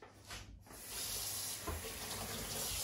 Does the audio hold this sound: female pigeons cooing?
no